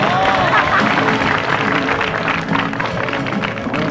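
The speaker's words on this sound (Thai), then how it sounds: "ขอเสียงปรบมือต้อนรับโปรจตุรงค์โกลบูลครับ" A studio audience at a Thai TV show applauds to welcome a golf pro: dense, steady clapping and crowd noise fill the whole stretch at close, loud level.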